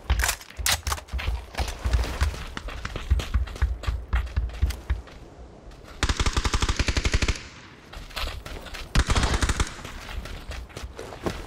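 Bursts of automatic gunfire in a PUBG match on the Sanhok map, rapid sharp cracks in long strings with short pauses, loud and close, some volleys denser than others.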